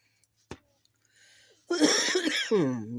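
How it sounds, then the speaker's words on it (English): One quick, sharp cough from a congested person breaks a near silence, then a voice comes in with throaty, strained sounds. "excuse me if I cough or whatever."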